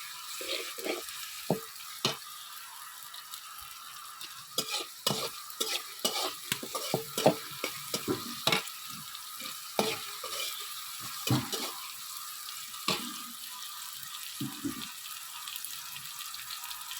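A spice paste with onion and oil sizzles in a wok while a utensil scrapes and stirs it in repeated uneven bursts, close by, over a soft continuous frying hiss with no talking.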